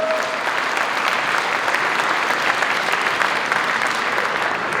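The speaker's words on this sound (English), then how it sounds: "give her a big round of applause." A crowd at an assemblymember's inauguration ceremony breaks into a big round of applause, a steady, loud wash of clapping held evenly throughout.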